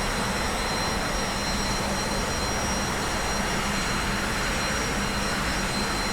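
The T-45C Goshawk jet engine at raised throttle in a flight simulator, a constant loud roaring whine with a steady high-pitched tone, unbroken and without speech.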